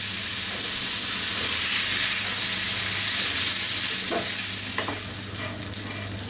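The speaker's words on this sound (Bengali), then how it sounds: "আমি একটা প্যানে একটু তেল গরম করে তার মধ্যে এই মুরগির টুকরাগুলোকে দিয়ে এখন ভেজে নিব।" Chicken pieces fry in hot oil in a pan with a loud, continuous sizzle. A few soft clinks and scrapes come near the end.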